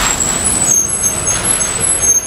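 A city bus pulls up and its air brakes let out a hiss, a sharp high release over the idling engine rumble, close by and loud for a couple of seconds.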